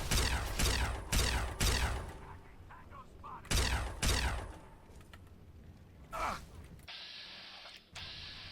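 Gunfire in the video game Fallout 3, several sharp loud bursts spaced a second or two apart amid combat noise, ending in a steady electronic hum.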